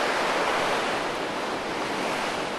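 Deep ocean water surging up around a large island in the equatorial current, a loud, continuous roar of surf and rushing water with a wind-like hiss.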